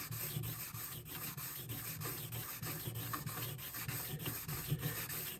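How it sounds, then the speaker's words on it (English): A metal blade edge worked back and forth on a sharpening stone produces rhythmic scraping strokes, close and fairly quiet, repeating roughly twice per second with no talking. "Now you work it on the stone without tilting it,"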